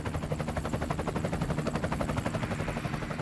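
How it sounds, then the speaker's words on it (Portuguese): A helicopter flying over northern Italy near Genoa, its rotor thumping in a fast, steady pulse, loud and continuous, with engine whine underneath and no talking. "O helicóptero aproveita para abastecer e, depois de deixar que o jatinho passe, retoma a viagem rumo ao norte."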